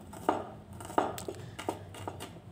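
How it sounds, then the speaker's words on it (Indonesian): Garlic and shallots are finely chopped with a knife on a cutting board, giving quiet, close, evenly spaced taps in a slow rhythm, about one every half second, with no talking. "Kedua bawang ini akan saya cincang halus."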